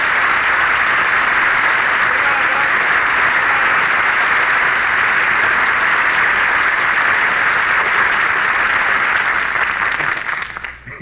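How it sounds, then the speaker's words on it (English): A restaurant crowd breaks into loud, sustained applause, a dense steady clatter of many hands clapping that holds evenly before tapering off at the very end. "everybody in the restaurant applauds"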